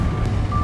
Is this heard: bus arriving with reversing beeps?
yes